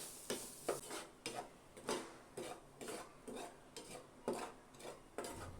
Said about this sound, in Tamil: நான் நெய் விடலை, அப்படியே தான் வதக்குறேன்.